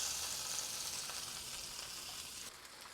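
A pork ribeye roast searing in a hot pan, a steady close sizzle and crackle of fat that drops slightly in loudness near the end, with no talk.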